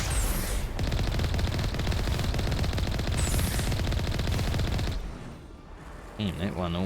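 Turret gunfire in the Mass Effect video game, a dense rapid stream of loud automatic shots for about five seconds, then a quieter stretch ending with a voice.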